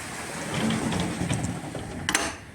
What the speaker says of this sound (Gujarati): એટલો બધો જોરદાર વરસાદ છે.